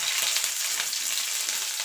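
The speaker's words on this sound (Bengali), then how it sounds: "প্রথমে ফুলকপিটাকে ভেজে নেব।" Cauliflower pieces fry in hot oil for a samosa filling, giving a steady, close hiss of sizzling with no pauses.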